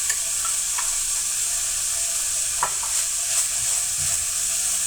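Shredded cabbage tossed into a hot pan for chicken egg rolls, frying with a steady bright sizzle and a few scraping stirs of a spatula, close and continuous with no talking.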